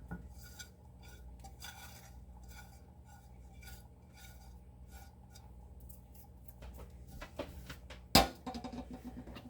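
A spoon stirs homemade Worcestershire sauce with freshly added lemon zest in a pot, giving a steady soft scraping and clinking against the metal, with one sharper clink near the end.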